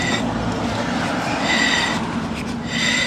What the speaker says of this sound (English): You can see this still creates some scratching noise, but this is normal. This is probably just from the brake pads.